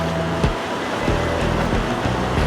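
Loud, broadband roar of rushing river rapids on a salmon river, continuous and close, with thumping knocks and low rumbles mixed into the steady wash.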